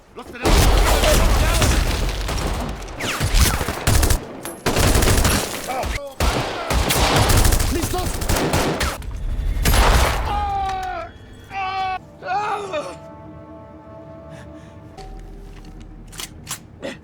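Gunfire erupts in a shootout scene from the film Contraataque, dense bursts of loud shots and booming volleys rolling back to back for about ten seconds, then thinning into scattered sounds with voices and a few distant pops.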